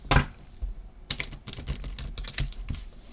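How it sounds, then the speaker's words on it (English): Rapid papery riffling and soft clicks of tarot cards being shuffled, one burst followed by a longer run of quick card-flicking sounds, close by with no voices. "I need to shuffle this again."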